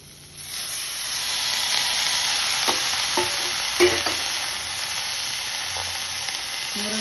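Drumstick leaves sautéing with onion and tomato, a loud steady hiss and sizzle rising at the start, with light intermittent scraping and tapping of a stirring spoon and no talk.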